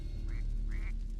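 A bird, a duck by its voice, cries out twice in distress, two short rising calls close by over a steady low rumble, with no talking.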